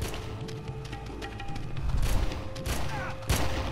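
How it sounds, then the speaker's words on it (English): Gunfire in the video game Red Faction crackles as a series of quick, irregular shots and thumps, moderately loud against a low rumbling in-game backdrop. "I'm just following the gunshots though."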